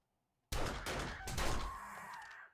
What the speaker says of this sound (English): I can hear your gunfire.